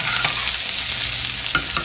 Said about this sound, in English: now you can hear that the sizzling has gone down a bit